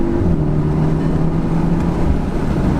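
Volkswagen Golf R accelerating hard, a steady loud engine drone with a rising harmonic tone, close and continuous with no talk over it.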